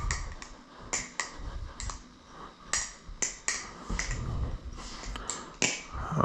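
A Franken Forge Galvanis balisong knife being flipped by hand: sharp metallic clicks and clacks in irregular bursts, close by and fairly loud, with a soft handling rustle between them and no talk.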